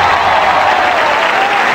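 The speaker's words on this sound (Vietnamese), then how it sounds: "Vậy kính mong quý vị cho một tràng vỗ tay thật lớn để cổ động cho ba người chơi" Studio audience at a televised game show applauds in a dense, loud, continuous burst of clapping.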